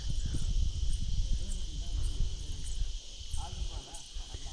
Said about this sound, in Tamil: பூச்சி சவுண்டு பயங்கரமாக இருக்குது.